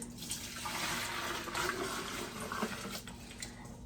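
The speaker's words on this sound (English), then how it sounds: "Pour this over into a tea jug so I can take it to the chickens later." Buttermilk pouring steadily into a jug, a continuous watery splashing and gurgling at close range, with a faint hum in the background.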